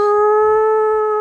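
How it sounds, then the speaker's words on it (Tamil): A dog howls in the distance, one long steady drawn-out cry held for just over a second, with no other sounds over it. "தூரத்துலேருந்து ஒரு நாய் குலைக்குது"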